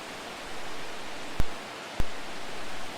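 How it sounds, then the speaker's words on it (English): A steady, loud rush of a mountain creek in the Rockies roars continuously beside a campsite, broken by two sharp clicks about half a second apart. "The creek sounds are so loud, it's almost like being in a factory"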